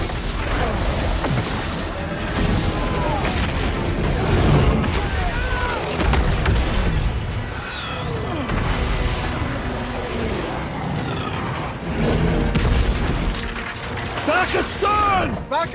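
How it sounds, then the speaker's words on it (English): Fire shells explode across a Gladiator II battle scene, with repeated deep booms, crashes and clattering debris in a dense, loud film soundtrack, mixed with shouting voices. "And we see here these explosive shells."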